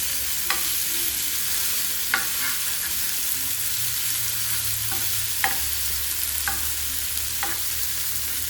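Flour-coated fish frying in a pan over low gas gives a steady, close hiss and crackle of oil, broken by a few sharp metallic clicks and taps spaced a second or so apart.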